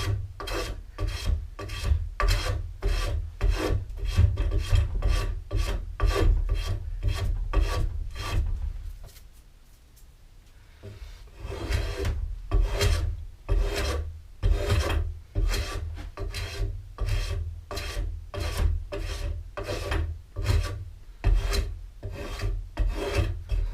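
Steady rhythmic rasping of a hand rasp shaping a wooden stool leg, close, evenly paced strokes, roughly two per second, with a brief pause midway before the strokes resume.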